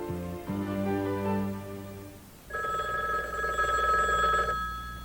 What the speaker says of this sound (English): Do you know who's calling when your phone rings?